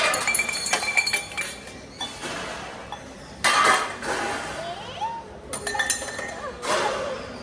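Empty dishes set down in a temple dining hall, with repeated clinks and clatters against a background of voices and general hall noise.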